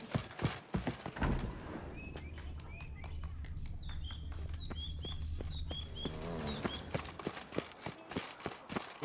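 Horse hooves clip-clop in The Witcher 3: Wild Hunt, Blood and Wine, a steady rhythmic trot of sharp close hits with birds chirping in the background.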